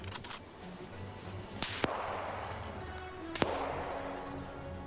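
Distant gunfire in a World War II shooter with British and German sides, two sharp isolated cracks a couple of seconds apart over a soft, steady ambient hiss, with a quick patter of shots at the start.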